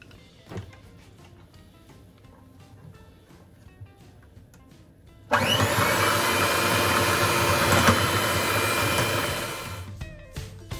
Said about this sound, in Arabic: دابا غادي نبداو نزيدو في هذا الخليط هذا بشويه بشويه وحنا كنطربوا